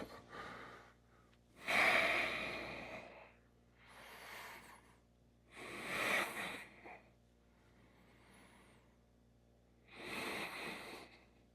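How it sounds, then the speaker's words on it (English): Slow, audible breaths from a person holding a balanced butterfly yoga pose, four long airy exhalations spaced evenly apart with quiet pauses between, close and fairly soft. "And keep breathing nicely."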